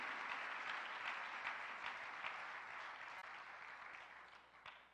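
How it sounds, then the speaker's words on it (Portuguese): A church congregation at a Sunday family service applauds with sustained, even clapping from many hands, moderately distant and gradually tapering near the end. "Quantos podem aplaudir ao Senhor?"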